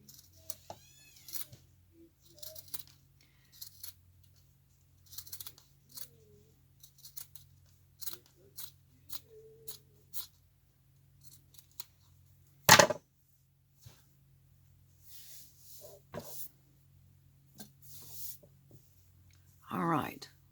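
Scissors trim fabric around the seam of a loofah mitt, giving sparse close snips and small crisp cuts spread through the span, with one louder sharp snip in the middle and a rustling burst at the end.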